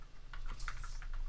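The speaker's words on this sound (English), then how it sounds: "I don't know if I need to type sudo, but I'm typing it anyway" Keys clack on a computer keyboard as a terminal command is typed, a quick run of light, close taps with uneven rhythm.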